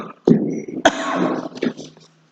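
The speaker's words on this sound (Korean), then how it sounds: "계속 기침이 나오네요." A pastor coughing during a sermon, a couple of abrupt close coughs followed by throaty, voiced sounds, indoors and fairly loud.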